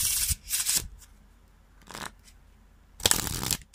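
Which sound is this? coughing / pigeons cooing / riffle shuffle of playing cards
riffle shuffle of playing cards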